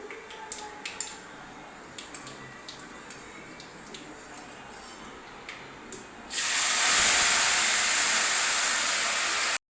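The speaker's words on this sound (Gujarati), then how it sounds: "લીંબુ પાણી નાખી દો." Lemon water hits a hot sesame-seed tempering in a pan and erupts into a loud, steady sizzling hiss that lasts several seconds, after quieter kitchen clatter.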